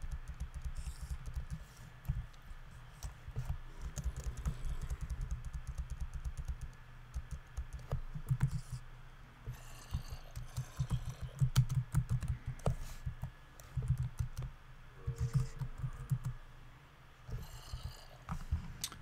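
Steady typing on a computer keyboard, with rapid close clicks running through almost the whole stretch and a few short pauses, with no talk over it.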